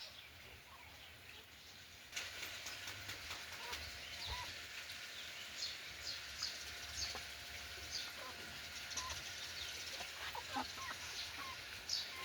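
Chickens on a small poultry farm, kept alongside ducks and quail, cluck and call steadily against a noisy outdoor background, with no one speaking over them.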